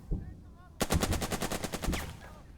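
A rapid machine-gun-style burst of gunfire from a unit in the tactical video game Burden of Command: roughly a dozen evenly spaced loud shots in quick rhythm, following a quieter stretch.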